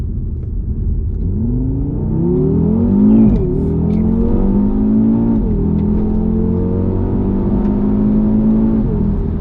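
A 2020 Audi RS3 engine pulls hard from low speed, its rising drone climbing steadily with a brief shift dip, loud and close from inside the cabin.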